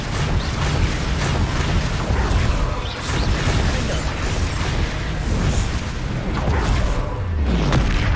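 Repeated Bombarda spell explosions in the video game Hogwarts Legacy, heavy booms and bursts layered over dense continuous battle noise for several seconds.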